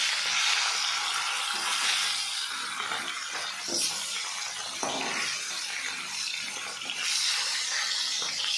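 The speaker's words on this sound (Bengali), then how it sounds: "এইভাবে উল্টে পাল্টে ভাজতে হবে।" Silver carp pieces frying in hot oil as they are turned over in the pan: a steady, close hiss of sizzling with a few soft knocks and clatters, and no voices.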